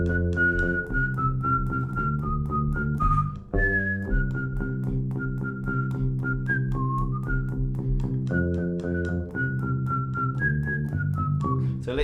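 A person whistles the Jingle Bells tune alone, clear and close, with steady melodic phrases and brief breaths between them, over a sustained chordal accompaniment underneath.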